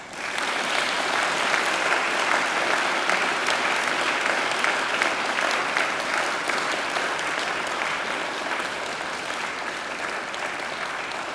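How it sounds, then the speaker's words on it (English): Large graduation audience applauding families and friends at a Macquarie University ceremony, a loud, sustained, evenly dense wash of clapping lasting over ten seconds and easing slightly toward the end. "And now I invite you to give them a mighty round of applause."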